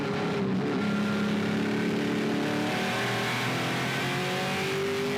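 A Trans Am Series muscle race car at Brainerd International Raceway roars loudly as it downshifts into a right-hand corner and pulls back through the gears, a sustained, dense engine snarl with shifting pitch and no talk.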